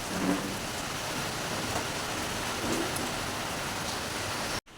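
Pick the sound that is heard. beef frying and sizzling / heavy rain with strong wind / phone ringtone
heavy rain with strong wind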